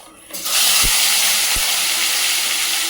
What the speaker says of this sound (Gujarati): અને હવે આપણે ટામેટા વઘારી દઈશું.